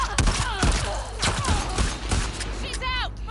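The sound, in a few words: gunfire in video game The Last of Us Part II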